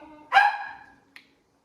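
A dog gives a single close, loud bark that trails off, followed by a brief faint yip about a second later.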